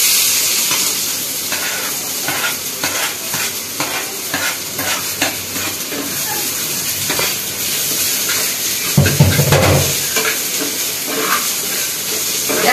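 Grated ginger, garlic and chopped onion frying in hot oil, a steady close sizzle and hiss with repeated stirring scrapes, swelling briefly louder toward the end as the mixture is moved around the pan.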